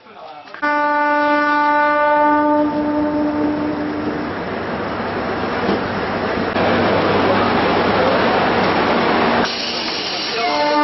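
A train on a newly opened railway line sounds a long, loud multi-tone horn, then rumbles and hisses past up close, with a second horn blast near the end.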